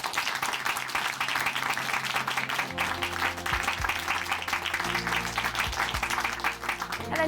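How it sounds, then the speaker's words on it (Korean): A church congregation applauds a woman after her testimony, a dense, even wash of clapping that continues steadily while soft music enters underneath. "자매님께 다시 한번 큰 박수 보내드릴게요."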